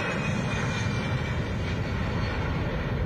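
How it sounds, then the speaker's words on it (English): A four-engine airplane with Pratt & Whitney engines passes slowly overhead above a valley, a loud continuous roar of engine drone with echo and no talk. "It glided slowly overhead with a loud noise generated by its 4 Pratt & Whitney engines,"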